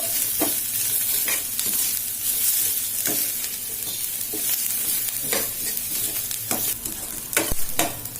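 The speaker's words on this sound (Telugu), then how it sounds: "ఇదిగోండి ఒక 2-3 మినిట్స్ ఇలా చక్కగా వేయించుకోవాలి" Ingredients frying in a pan while making java with singada flour: a steady loud sizzle with repeated scraping stirs of a spatula at an uneven rhythm, no voices.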